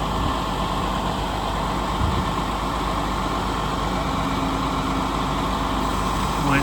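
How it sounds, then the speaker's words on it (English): A 2012 International Durastar mechanics service truck with a 12,000 lb crane runs steadily as the crane raises, its engine holding a constant close idle throughout with no talking. "Crane here, right, crane up."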